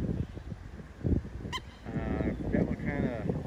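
A duck calls with honking, goose-like cries near chicks among weeds by the water, loud and repeated over steady outdoor background noise.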